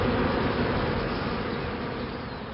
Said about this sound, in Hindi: मधुमक्खियों की भरमार है।